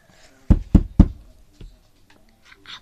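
Three loud, evenly spaced knocks on a door ring out close by, followed by a softer single knock and faint scuffling sounds.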